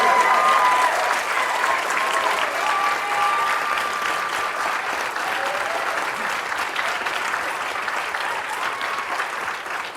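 A conference audience gives a sustained round of applause for Frankie Broodbank during a university library plenary session. The clapping is dense, steady and fairly loud, running the whole length with no talking over it.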